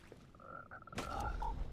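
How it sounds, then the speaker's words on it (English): Frogs in the video game Mortal Shell croak in short, throaty calls, a few close-sounding croaks following one another over a quiet background. "Did I mention you can get sniped by the frogs in this game?"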